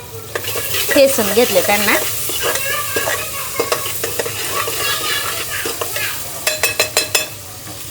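Crushed ginger and garlic hitting very hot oil in an overheated pressure cooker, with a loud sizzle and crackle followed by scraping stirs and sharp metallic clicks of a spoon against the pot.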